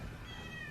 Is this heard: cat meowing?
yes